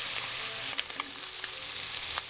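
Sweet butter sizzles in a hot pan with seared scallops, a loud, steady, close crackling hiss with a few sharper pops and stirring sounds, no talking.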